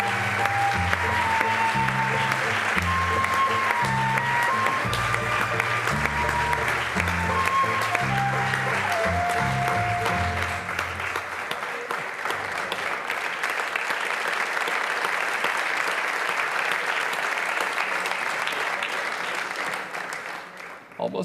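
Audience applause at the Prix CIRCOM 2017 award ceremony, a dense sustained roar of clapping lasting about twenty seconds, with music playing underneath for the first half before the clapping carries on alone and fades at the end.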